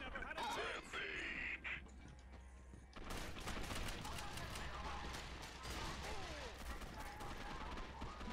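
Bursts of sniper rifle gunfire crack repeatedly through a noisy soundscape in the game Gotham City Impostors, shots firing in rapid clusters with some louder blasts after a brief lull.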